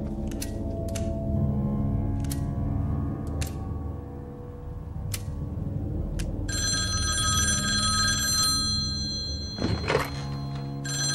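A telephone rings in sustained electronic bursts partway through, preceded by scattered sharp thunks and knocks, with a brief louder clatter near the end and no talk.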